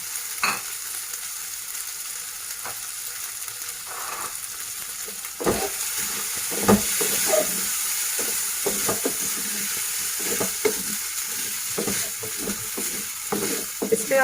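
Soaked sago pearls stirred into tomatoes frying in a pan for Sindhi sabudana pulao: a steady close sizzle and hiss broken by repeated scraping, clicking stirs, with no talking.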